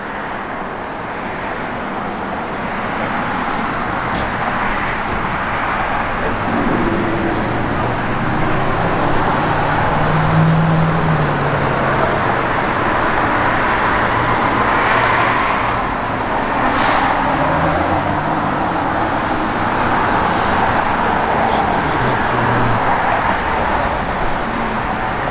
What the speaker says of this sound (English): Car's got great sound. It's got a Magnaflow H-pipe dual exhaust system